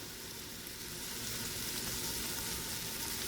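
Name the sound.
diced pork tenderloin sizzling in avocado oil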